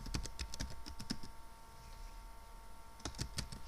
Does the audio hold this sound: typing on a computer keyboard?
yes